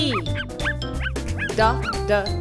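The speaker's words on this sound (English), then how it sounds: "D dog." A cartoon-style dog barks in a children's alphabet and phonics lesson, giving about six short, bright, close barks in a quick, even rhythm over soft background music.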